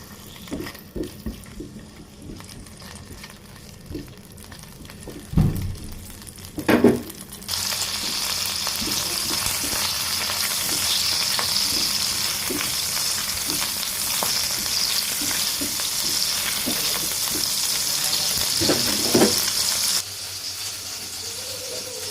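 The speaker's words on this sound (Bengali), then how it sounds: "প্রথমে চিংড়ি মাছটাকে ভালোভাবে ভেজে নিতে হবে" Shrimp sizzle and crackle as they fry in hot oil in a wok, with stirring clatter at first, then a loud, steady frying hiss that runs close and continuous for most of the clip.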